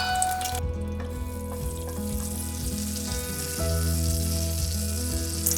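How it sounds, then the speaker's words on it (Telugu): Whole garam masala of cinnamon, cloves and cardamom frying in a tablespoon of oil in a pan, producing a steady, close sizzle with some stirring clatter and no speech. "ఇప్పుడు అదే ప్యాన్లో 1 టేబుల్ స్పూన్ ఆయిల్ వేసుకొని గరం మసాలా వేసుకోవాలి."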